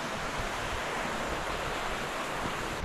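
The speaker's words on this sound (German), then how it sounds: "weil man die ganze Zeit dieses Plätschern vom See hört" Lake water laps steadily beside a snowy hiking trail in the Harz mountains, a constant broadband wash with wind rumble over the microphone, with no voices.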